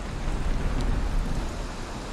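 Rain in the video game Valheim near a swamp, a steady soft hiss of falling water with a low rumbling undertone, continuous and even across the short moment.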